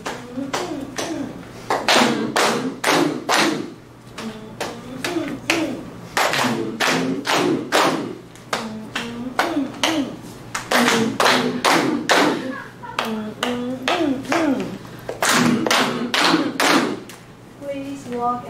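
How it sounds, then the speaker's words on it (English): During a Mandarin lesson, people clap their hands while walking: repeated bursts of claps and thudding steps in an uneven rhythm, with voices mixed in. "Please walk and clap with me."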